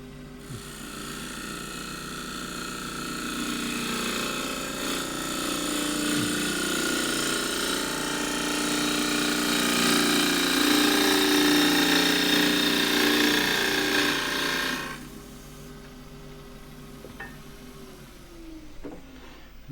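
A gouge cuts green elm on a lathe, giving a steady, close tearing and rasping whir that swells in the middle and then stops abruptly, leaving quiet workshop hum and a few faint knocks.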